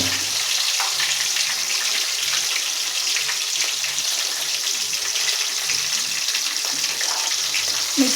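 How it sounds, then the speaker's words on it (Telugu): Green chillies frying in hot oil with urad dal, cinnamon and clove for a tomato curry, giving a steady, close, continuous sizzle with no talk over it. "మిర్చి ఫ్రై అయ్యేంత వరకు ఫ్రై చేయండి."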